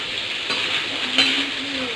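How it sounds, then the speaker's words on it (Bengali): Potatoes fry in a pan with salt and turmeric, giving a steady, close sizzle with one brief clink of a utensil near the middle. "এখানে আলুগুলো লবণ হলুদ দিয়ে ভেজে নেব"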